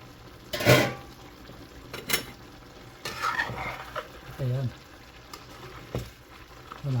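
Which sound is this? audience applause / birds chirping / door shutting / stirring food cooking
stirring food cooking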